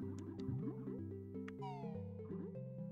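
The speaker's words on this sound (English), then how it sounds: "Followed by a little meow." A cat's short little meow rises out of a busy Banjo-Kazooie game soundtrack, faint and brief amid layered music and effects, with no talking.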